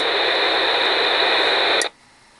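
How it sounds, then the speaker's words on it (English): Steady loud hiss of broadband static from a radio jammer's internal noise generator, holding evenly for nearly two seconds before cutting off abruptly into near silence. "that noise you hear is the internal noise generator"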